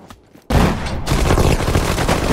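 Gunfire erupts in the WW2 strategy game Sudden Strike 4 during a D-Day mission: after a quiet half-second, a sudden dense burst of rapid shots rolls on continuously, loud and close, with no voices.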